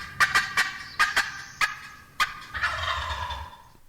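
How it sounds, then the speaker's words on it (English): Sharp, sparse cuts from a wild turkey hen, six or seven quick clucks, followed by a loud rolling gobble at the end, close and clear with no talking. "There's your gobble at the end there."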